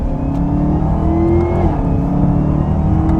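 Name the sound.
supercharger whine of a Chevrolet Camaro accelerating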